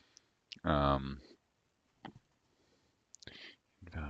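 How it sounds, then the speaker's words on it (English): A computer keyboard is typed on in a few sparse, sharp clicks spread over several seconds, close and quiet, with a brief burst of voice near the start. "Typing"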